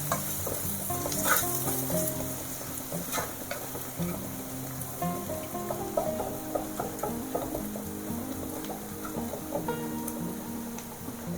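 Turmeric and onions sizzle in a hot pan while a utensil scrapes and clicks in repeated stirring strokes, close and continuous.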